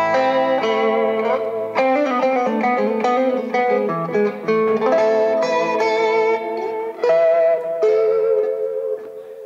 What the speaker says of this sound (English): But then I put the compression in